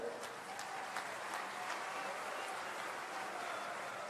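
A crowd at a political rally and foundation-stone event claps in sustained, dense applause, a steady wash of hand claps without pause, heard from among the audience.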